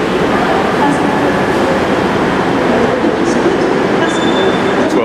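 A local passenger train on the Skipton line, heard near Cononley, makes a loud, steady rumble of wheels and carriages close by for several seconds.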